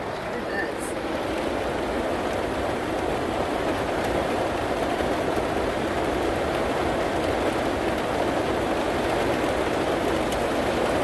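Heavy rain drums steadily on the roof of an RV parked in the Arizona desert, a dense, constant wash of noise throughout, with low voices underneath.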